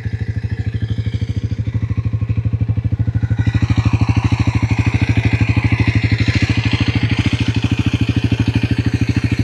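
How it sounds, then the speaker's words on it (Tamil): A Bajaj Pulsar NS400Z motorcycle with an underbelly exhaust idles loudly and close by in a fast, even, steady thrum, its clattering pulse holding through the whole stretch with no talk. "செல்ஃப் ஸ்டார்ட்டு எப்படி இருக்குது வண்டியோட சத்தம்"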